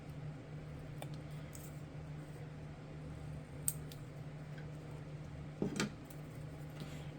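Scissors trim paper for a junk-journal postcard, giving a couple of faint, brief snips over a steady low room hum.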